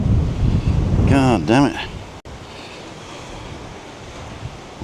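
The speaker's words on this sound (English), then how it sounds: "It's a windy one today." Strong wind buffets the microphone in a steady roar on a walk in Tenerife, with a man's brief spoken outburst near the start.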